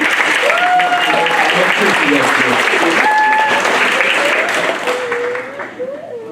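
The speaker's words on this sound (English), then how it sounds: "let's give Danielle a big round of applause." An audience at a symphonic band concert applauds, dense continuous clapping with voices and a few whistles mixed in, tapering off near the end.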